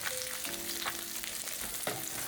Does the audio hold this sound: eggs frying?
yes